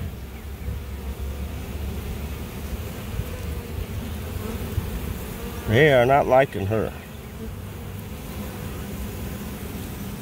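A large honeybee swarm drones steadily, with a dense close buzzing surrounding a queen bee under attack; a person speaks briefly partway through.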